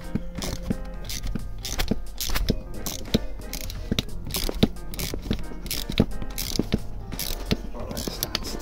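Ratchet clicking as stiff bolts are tightened during a centre diff lock retrofit on a Land Rover Discovery 2, with repeated sharp metallic ratcheting bursts close by over a steady background.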